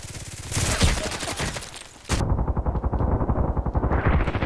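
Rapid bursts of automatic gunfire in the video game Contract Wars rattle in quick succession, loud and continuous, with a brief shift in tone midway as the firing keeps going.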